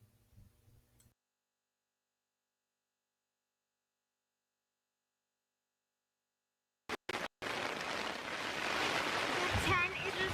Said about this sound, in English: The tent is just coming in on me. The wind is so bad.